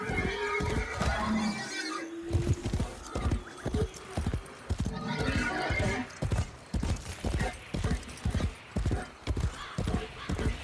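A horse in Warframe: The Duviri Paradox trots with steady, close clip-clop hooves over about ten seconds, with a neigh near the start, and no one speaking over it.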